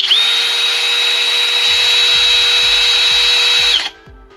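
A Flex cordless drill runs loudly and close at full speed with a steady high whine for nearly four seconds, then cuts off abruptly as the trigger is released and the motor winds down.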